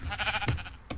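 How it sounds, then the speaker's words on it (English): A sheep bleats in Minecraft, a short wavering blocky call followed by a couple of quick in-game clicks and thuds, close and clear with no talking. "Sheep."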